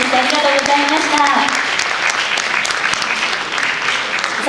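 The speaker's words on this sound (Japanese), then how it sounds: "皆さん、今一度大きな拍手をお願いいたします。" Loud audience applause at a Japanese singing championship grand-prix final, dense steady clapping filling the whole stretch, with a brief sung or spoken tone fading out at the start.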